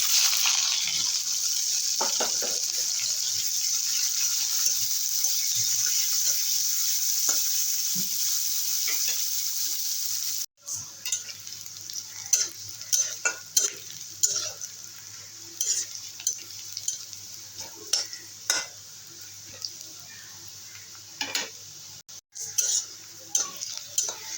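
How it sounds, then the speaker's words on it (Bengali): Black cumin seeds, chopped onion and garlic hit hot oil in a pan, first as a loud, steady hiss, then a softer sizzle under clattering metal spoon strokes and scrapes against the pan. "তেল গরম হয়ে গেছে দিয়ে দেবো কালো জিরে দিয়ে দেবো পেঁয়াজ কুচি রসুন কুচি"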